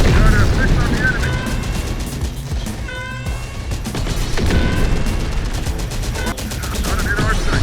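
Enemy gunfire in Terminator: Dark Fate - Defiance, a dense run of shots and bursts filling the clip, with a brief lull midway before the firing resumes loudly, mixed with game effects.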